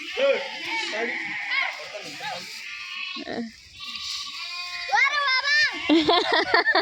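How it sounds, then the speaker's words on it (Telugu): Sheep bleat repeatedly at close range while being fed, several loud overlapping calls rising and falling, with a person talking over them throughout. "గొర్రెలు ఇప్పుడు వచ్చినాయి మళ్ళీ మేత వేసినారు వీటికి చూడండి"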